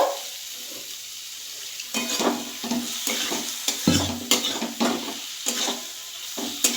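Eggplant curry masala with fried potatoes being stir-fried, giving a low sizzle under frequent scraping and clattering spatula strokes in a pan, close by and without speech.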